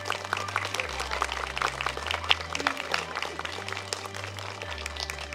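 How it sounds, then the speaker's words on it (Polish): Applause at an outdoor family picnic, a crowd clapping steadily throughout over a low hum from the sound system. "Brawa się za to pani należy."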